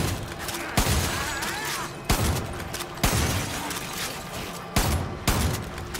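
Bursts of gunfire in Far Cry 5's zombie mode, loud volleys of shots in four or five clusters separated by short pauses, close and dominant with no talking over them.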